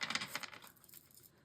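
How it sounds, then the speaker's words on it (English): Tarot cards being shuffled during a reading, a quick close riffle of crisp papery flutters that starts fairly loud and trails off into softer rustling, with no talk over it. "Let's shuffle it one more time"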